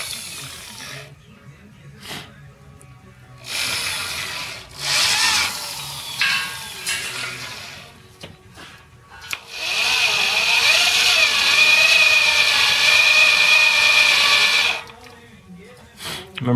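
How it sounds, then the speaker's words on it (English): A hole saw on a handheld drill cuts into a steering axle part, a loud sustained grinding whine running for several seconds near the end, after shorter bursts of tool noise and handling clatter earlier. "Now I'm ready to drill it. I'm using a hand drill this time."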